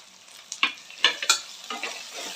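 Chopped onions sautéing in a pan, several sharp scraping stir strokes over a light sizzle, close and fairly loud, no talk.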